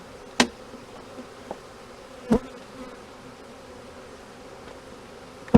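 Bees hum steadily around an open beehive during a late-year inspection, a soft continuous buzz close by with a few louder thumps and taps on top, and no talk.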